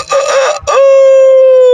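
A man imitates a rooster crowing with his voice, a loud, close cock-a-doodle-doo that breaks briefly before ending in a long sustained held note.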